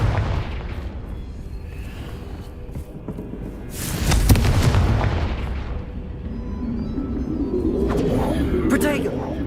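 A Confringo blasting spell in Hogwarts Legacy erupts as a loud, deep explosion with a rumbling tail and rushing debris, amid game music and voices.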